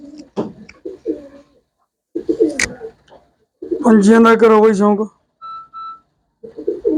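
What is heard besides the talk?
pigeons cooing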